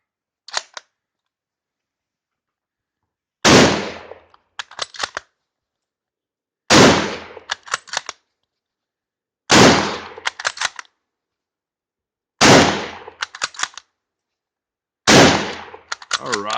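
A Yugoslavian M48 Mauser rifle fires at an outdoor range: five loud, close single shots roughly three seconds apart, each followed by quick metallic clicks and clacks of the bolt being cycled, with no speech over them.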